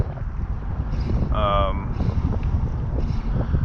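Strong wind buffets the microphone on a boat while fly fishing for snook in Estero Bay, a loud continuous rumble and whoosh that swells in gusts, with a brief tonal whistle in the middle.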